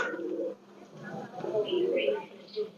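Low, rolling coos from a male Chinese pigeon, a fancy imported breed, come in a couple of close bursts while someone speaks over them.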